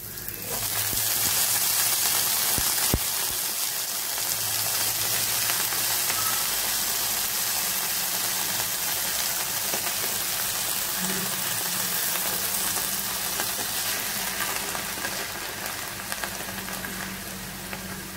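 Broad beans (avarakkai) sizzling and frying steadily in a pan for a poriyal, a continuous close crackling hiss with occasional faint stirring, no talk.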